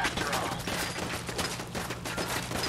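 Rapid bursts of gunfire from the video game Fallout 4, a dense crackle of repeated shots at moderate level with no talk over it.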